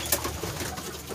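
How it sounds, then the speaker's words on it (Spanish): Pigeons and doves coo softly nearby in a backyard coop during freezing weather, a short low murmuring call over a busy, rustling background. "acá los voy a tener tanto paloma como pichón"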